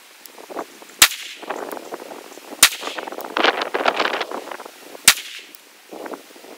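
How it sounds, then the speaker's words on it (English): Rifle fired with Federal ammunition for a five-shot group, heard as three sharp, loud, well-spaced cracks with clattering handling and shuffling noise in between. "That's 5 shots"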